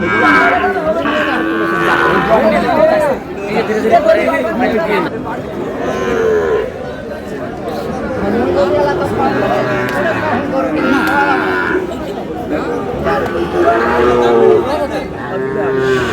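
Sahiwal bull calves moo repeatedly at a busy cattle market in Comilla, with loud, close calls rising and falling over several seconds while traders talk in the background.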